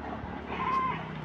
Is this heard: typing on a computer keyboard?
no